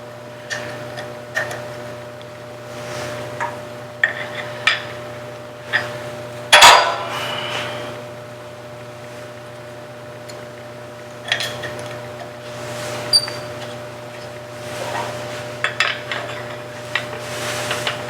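Small metal ticks and clicks from screws being loosened on a hollow woodturning tool handle, sparse and close, with one sharper clink midway over a steady low workshop hum.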